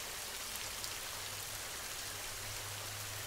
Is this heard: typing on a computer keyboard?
no